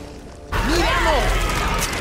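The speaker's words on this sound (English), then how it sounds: "Reloading!" Weapon reload in the shooter game Back 4 Blood, a quick burst of metallic clacks and mechanical handling noises over loud game audio.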